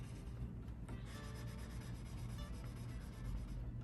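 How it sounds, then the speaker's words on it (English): Steel wool rubs along the frets of a classical guitar, a quiet, continuous scratchy scrubbing with faint back-and-forth strokes and no talking. "you're going to polish your frets out"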